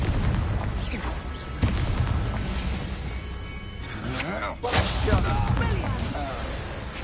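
A Confringo explosive spell goes off in Hogwarts Legacy, with a few loud bursts and whooshing blasts against a dense game soundscape, and a voice in the clip calling out spells over the action.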